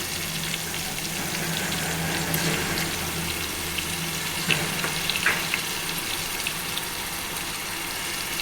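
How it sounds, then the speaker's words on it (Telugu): Ginger garlic paste hitting hot oil in a pan for a fish curry, a continuous moderate sizzle with a few scattered pops and crackles, heard alone without talking. "ఇప్పుడు అల్లం వెల్లుల్లి పేస్ట్ వేస్తున్నానండి"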